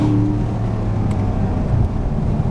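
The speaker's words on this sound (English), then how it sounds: "the general sound when you accelerate and cold start this car in particular, absolutely fantastic." Chevrolet Corvette C7 Stingray V8 engine rumbling steadily from inside the car, a loud continuous low drone with some wind rush and no talking.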